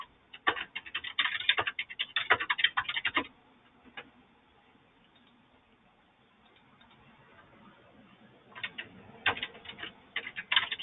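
Keys on a computer keyboard clatter in quick, close bursts of typing, go quiet for several seconds, then resume with scattered keystrokes.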